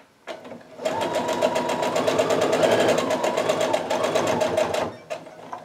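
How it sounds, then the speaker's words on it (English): A sewing machine runs steadily for about four seconds stitching a quarter-inch seam on a quilt block, a fast even rhythmic chatter, close and loud with no talk. "now we're going to do our sewing"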